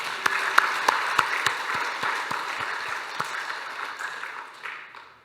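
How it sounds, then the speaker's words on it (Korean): Church congregation applauding at a dedication service, a dense steady round of clapping with a few sharp louder claps up front, holding for several seconds before tapering off near the end. "다시 한번 하나님께 감사와 영광의 박수를 한번 올려드리겠습니다"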